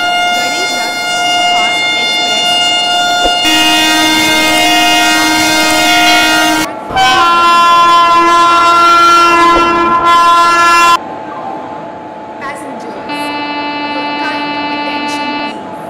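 Pune to Surat Garib Rath Superfast Express train hauled by a red WAG9HC electric locomotive at an Indian railway station, sounding long loud sustained horn blasts in several sections with brief breaks, close and dominant over rumbling background.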